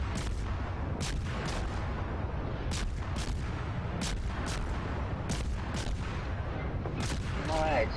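Warship main batteries fire in the World of Warships naval battle game, a series of sharp booming salvos at irregular intervals over a constant low rumble of engine and sea noise, loud and near, with no talk.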